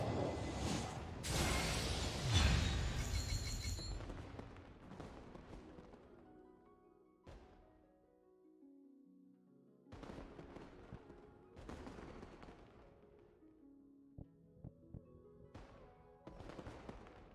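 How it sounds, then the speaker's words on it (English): Fireworks in the Genshin Impact video game during the Lantern Rite event: a dense cluster of loud crackling bursts up front, then several sharper pops and bangs scattered through the rest, with no talk. "Why did I hear fireworks just now in the game?"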